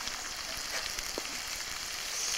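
Potatoes frying in a small pan over a campfire, a steady close hiss and crackle of sizzling oil with faint scattered pops, without talk.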